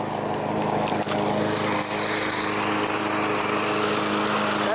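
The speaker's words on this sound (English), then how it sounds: "we're mowing the lawn, just this portion" A lawn mower runs steadily and loudly outside a house while cutting part of the lawn, a continuous engine drone with no breaks.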